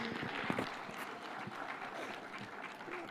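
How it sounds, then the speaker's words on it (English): An audience applauds for Raila Odinga at the 2025 Devolution Conference in Homa Bay, a dense, steady wash of clapping at moderate level across the whole stretch, with a few sharper claps near the start. "an applause for Baba, please."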